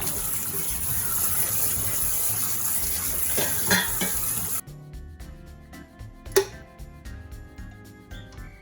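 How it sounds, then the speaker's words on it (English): Cold water gushes steadily from a tap over drained pasta in a sink for a few seconds, then cuts off, leaving quiet clinks and a single sharp knock. "now we want to drain this out and rinse it with some cold water"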